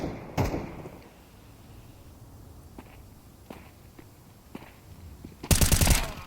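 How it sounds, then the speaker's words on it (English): MAC-10 submachine gun fire in a Counter-Strike match on the Inferno map: a loud, dense burst of rapid shots near the end, after an earlier single sharp report and scattered footsteps and clicks over low game ambience, with no talking. "Naf's MAC-10 does find Yuri, and with twist frag as well."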